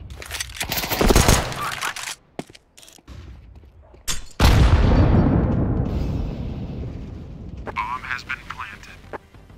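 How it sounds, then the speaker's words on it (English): A flashbang grenade going off in Counter-Strike 2, a sharp loud bang followed by a long decaying ringing wash, amid scattered game effects and players talking. "Deploying flashbang"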